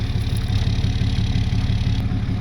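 A truck engine rumbles steadily at close range while backing into a trailer, a low, even throb with no talk.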